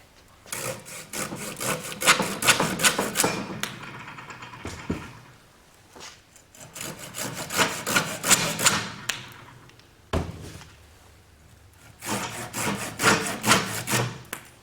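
Green wood being cut with a 7-inch folding pruning saw with razor-style teeth, heard as three bursts of rapid, rasping back-and-forth strokes close by, separated by short pauses.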